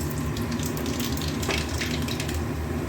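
Nigella seeds frying in hot oil in a pan, with pointed gourd cooking alongside, give a steady close sizzle that carries on evenly throughout without talk.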